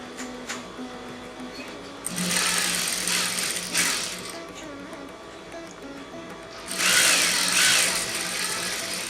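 A sewing machine stitches a seam on a pair of pants, its motor whirring in two longer, louder runs separated by quieter pauses with softer mechanical ticking.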